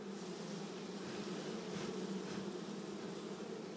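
Chinese honeybees buzz at an open hive in a dense, steady drone, close and continuous with no pauses.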